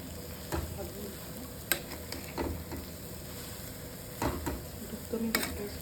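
Semolina pudding with milk and sugar stirred in a pot, with a few soft scraping strokes and clinks spaced out over a low, steady simmering bubble.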